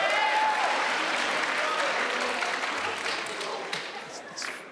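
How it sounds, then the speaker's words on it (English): An audience applauds at a college and career kickoff event for high school seniors, the dense clapping loudest at the start and tapering slightly toward the end, with no speech over it. "it's the first time anybody ever applauded for that."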